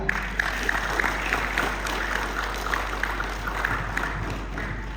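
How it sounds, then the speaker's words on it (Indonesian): Applause at a student council (OSIS) inauguration ceremony for Athirah 1 Islamic junior high school in Makassar: steady, moderately loud crowd clapping that runs through the whole stretch as a continuous wash. "ayo kita berikan aplaus yang meriah"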